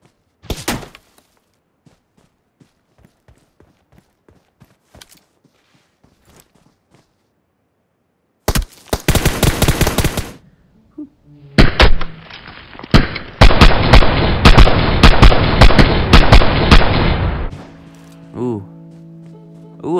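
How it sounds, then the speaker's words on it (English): Gunfire in the mobile battle royale game PUBG Mobile: scattered faint shots, then loud bursts of rapid fire and a long sustained volley, with a person speaking over parts of it. "Oh, I'm getting shot at right there on the side of you."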